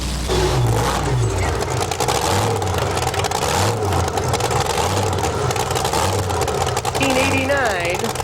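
A 524 cubic inch supercharged Rodak-powered pulling truck, Meat Wagon 2, roars steadily at a 1990 NTPA two-wheel-drive truck pull in Pocono, Pennsylvania, as a loud continuous engine drone with rising revs while an announcer talks over it.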